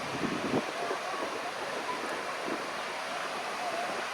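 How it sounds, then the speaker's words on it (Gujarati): Roughly head-high surf breaks on the shore at Innes National Park in South Australia, a steady, fairly distant roar mixed with wind buffeting the microphone and no talking. "લગભગ આપણી હાઈટ જેટલા તો મોજા છે જ"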